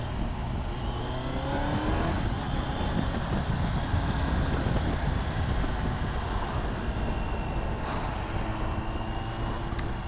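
A Kawasaki Z900 motorcycle engine pulls hard under acceleration, a steady loud droning roar with rising pitch and heavy wind noise, continuous and close with no voices.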